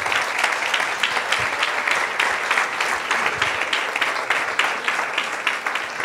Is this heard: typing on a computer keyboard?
no